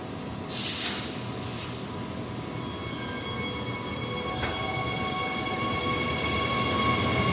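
A passenger train rumbles steadily past on the tracks at night on Perth's Joondalup line, a low, continuous roar and a faint metallic whine, after a brief hiss early on.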